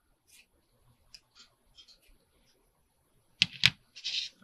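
Small scissors snip fuzzy threads off lace pieces: a few faint, sparse clicks at first, then two sharp, close snips and a brief rasp of cutting near the end, with a soft murmur of speech in the background.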